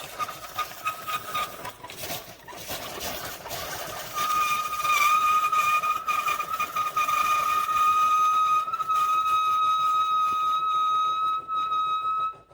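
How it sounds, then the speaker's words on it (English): An Amazon Basics single-serve K-Cup coffee maker brews with a low rumble, then a steady high-pitched whistling hiss that sets in partway through and runs loud and close to the end. "Yes, that is the coffee maker."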